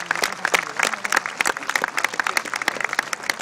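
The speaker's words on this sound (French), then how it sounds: "Vous pouvez l'applaudir." Crowd applause for the Turkish captain at the Carrousel de Saumur, a dense, steady burst of clapping that carries on without a break.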